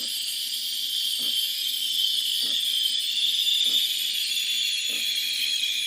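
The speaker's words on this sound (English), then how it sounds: "Let's steam the milk." A Breville Bambino Plus steam wand steaming milk gives a steady, loud high-pitched hiss throughout, with faint low thumps recurring about every second beneath it and no talking.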